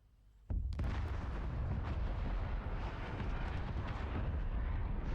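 A napalm strike in a video game starts with a sudden loud blast and rolls into a sustained, roaring wall of explosions and fire that continues without letup.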